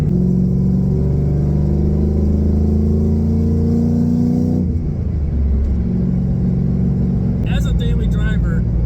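A Chevrolet V8 car with a T56 gearbox revs hard, a loud close rumbling drone that climbs and holds, drops briefly, then surges again as a voice speaks near the end.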